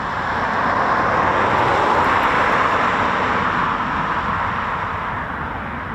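Eurofighter Typhoon FGR4 jet near RAF Coningsby, heard as a loud, steady broadband roar that holds for several seconds and eases slightly toward the end.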